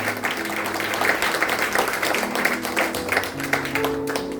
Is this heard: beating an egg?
no